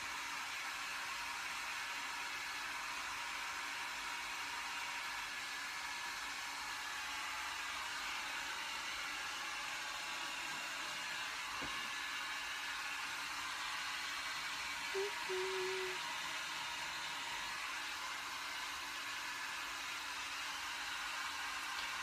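A hair dryer blows with a steady, even whooshing hiss that runs unbroken and fairly loud throughout, with no talk.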